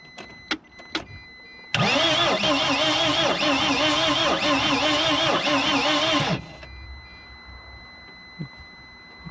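A 2006 T1N Sprinter van's engine cranks steadily without catching, a loud continuous whirring with a rhythmic pulsing of the starter turning it over for about five seconds, preceded and followed by faint clicks.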